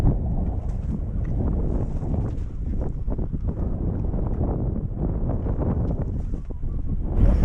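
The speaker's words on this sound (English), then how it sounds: "man, is it windy." Strong wind roars steadily across the microphone during a winter road trip to Death Valley, a loud, continuous buffeting rush that swells slightly at the end, with no voices.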